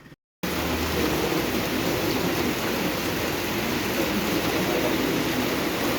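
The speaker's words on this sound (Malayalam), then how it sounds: "എന്തൊരു മഴ." Heavy rain falls in a dense, unbroken roar that fills the space after a brief silence at the start, loud and steady with no voices.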